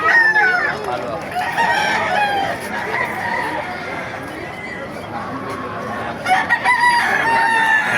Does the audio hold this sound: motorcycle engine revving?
no